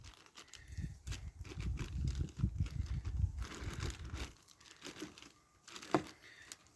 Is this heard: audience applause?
no